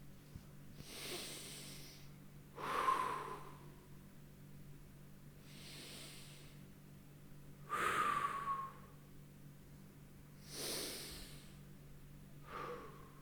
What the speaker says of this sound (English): Take another few deep breaths.